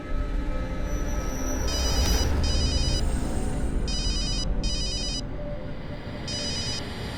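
Telephone ringtone rings in five short bursts, each a clear trilling electronic tone, playing over a steady background hum, with no speech.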